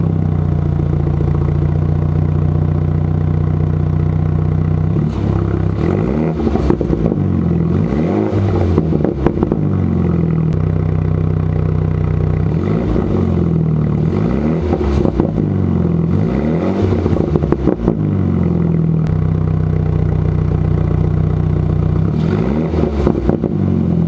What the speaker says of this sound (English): let me throw up a clip of me revving it